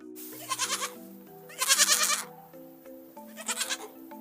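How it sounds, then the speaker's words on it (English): A goat bleats three times in quick, wavering calls with short pauses between them, heard alone over soft children's song music. "G for goat"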